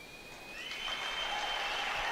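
Arena crowd at a hunter horse show clapping for a finished round, applause swelling from soft to a steady wash over a couple of seconds with a faint thin tone above it.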